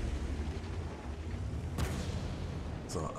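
A heavy tank's cannon firing in World of Tanks, a sharp boom near the end standing out over a dense rumble of engine and battle noise.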